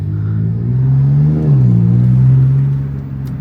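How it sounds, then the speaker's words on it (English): A 2026 Dodge Charger Scat Pack's twin-turbo inline-six is revved close up, a deep steady engine drone that swells and dips once before settling, with no talk over it. "Let's give this thing a few revs and see what it sounds like."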